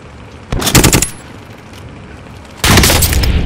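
Cluster strike explosions in a video game arrive as two loud, dense bursts of rapid detonations: a short rattling volley, a pause, then a second heavy barrage that keeps rumbling to the end.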